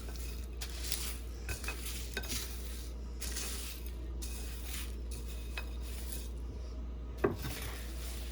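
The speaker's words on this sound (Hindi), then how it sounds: "अब हम इसको, जो सारे मसाले थे, एक दफ़ा मिक्स कर लेंगे।" Whole garam masala spices are stirred in a pan, giving soft scraping and light rattling strokes with a faint clink, close and quiet over a steady low hum.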